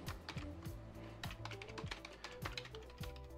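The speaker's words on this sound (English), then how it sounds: "Oh, not even typing in the right place." Rapid typing on a computer keyboard, a steady patter of close key clicks with a few heavier keystrokes, over a low hum from a room with 3D printers.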